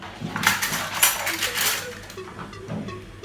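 Metal cutlery clinks and rattles up close as a hand rummages through a drawer for a spoon, with a few sharper chinks amid the jumble.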